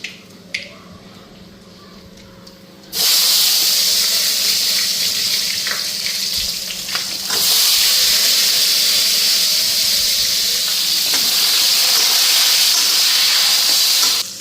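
Eggplant pieces dropped into hot oil with nigella seeds, a sudden loud, steady sizzle and hiss that fills the space after a quiet start and keeps roaring close by.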